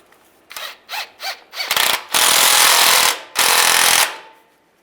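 A power tool drives home the bolt on a transmission dipstick tube of a 2007-2013 Chevrolet Silverado: a few short ratcheting bursts, then two longer, loud sustained runs close by, ending in quiet.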